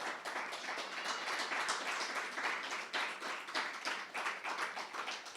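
Sustained applause fills a church service, dense continuous clapping from a congregation held at a steady level throughout with no speech over it.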